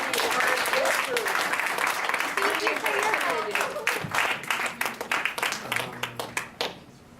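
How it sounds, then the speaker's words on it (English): An audience applauds the Occupy organizers at a talk, a dense burst of many hands clapping that thins out toward the end, with voices mixed in among the crowd. "I'd like to ask for a round of applause for the organizers, the Occupy organizers."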